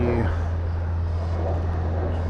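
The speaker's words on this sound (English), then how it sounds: "Jets on 660, 34 left, clear for takeoff" A Jetstar jet takes off from runway 34 left at Sydney Airport. A steady, loud engine roar holds throughout the clip at close range, with no talk over it.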